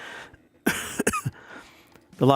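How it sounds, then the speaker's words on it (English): A person coughs sharply a few times in quick succession, close and loud, with speech before and after. "sorry for the coughing"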